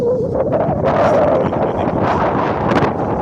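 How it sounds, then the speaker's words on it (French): A blustery gust of wind buffets the microphone outdoors near the municipal campsite of Le Malzieu-Ville, a rough rushing roar that swells and wavers for a few seconds. "Il y a un petit pas de vent, ça va se calmer. Rassurez-vous, c'est juste une petite rafale."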